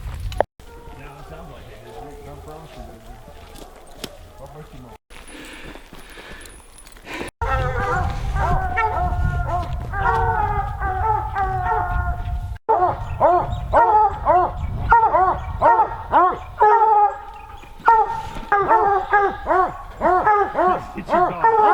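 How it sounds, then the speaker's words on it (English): Several hunting hounds bay and howl at a bear treed on a New Mexico mountain, in rapid, overlapping bursts, loud and continuous, with a voice speaking briefly at the start. "kind of a howl that they do once they've got the bear in the tree"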